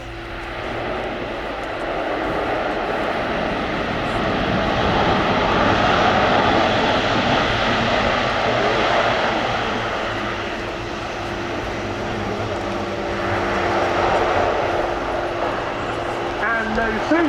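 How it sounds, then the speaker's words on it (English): Airbus A400M Atlas military transport landing with a short-field stop at the RIAT 2018 airshow: a loud, sustained turboprop engine roar that swells and recedes over many seconds, with a commentator's voice heard over it. "This aircraft now just cleared to land, and I think this should be quite an exciting demonstration of its short-field stopping ability."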